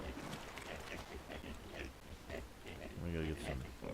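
Pigs in the Atlas video game, a short burst of grunting oinks near the end, heard under steady talk and busy game background noise.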